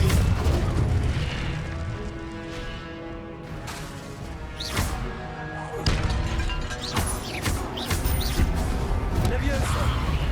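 A fiery Incendio spell bursts with heavy booming thuds in Hogwarts Legacy, the blasts thumping through a dense, busy game mix while voices talk over the action.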